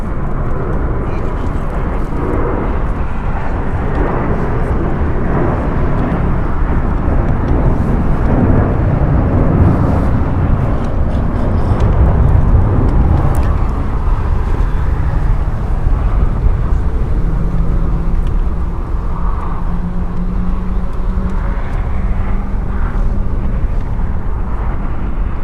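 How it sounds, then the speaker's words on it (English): A three-year-old American Airlines Airbus A321 departing LAX for Boston, giving a loud sustained jet roar that swells and rumbles with deep low-end power, with intermittent talk over it. "Departing here is American Airlines Flight 779 going to Boston."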